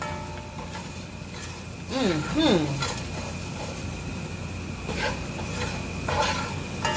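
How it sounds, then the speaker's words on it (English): Curry for chicken frying in a pot, a low sizzle with occasional spoon scrapes and pan clinks, while a voice talks over it in places. "keep giving it a little stir"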